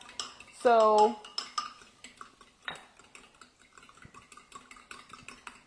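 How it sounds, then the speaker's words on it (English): Eggs whisked in a bowl during garlic soup preparation: quick, uneven clinks and taps of utensil against dish, fairly close and quiet, with a brief spoken word and some kitchen clatter. "I'm just going to whisk them up a little bit."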